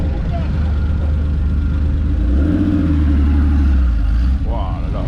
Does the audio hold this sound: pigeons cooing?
no